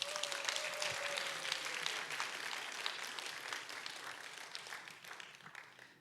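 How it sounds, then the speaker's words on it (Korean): A church congregation applauding warmly, dense continuous clapping that holds steady and then gradually tapers off toward the end. "응원의 박수 한번 부탁드립니다."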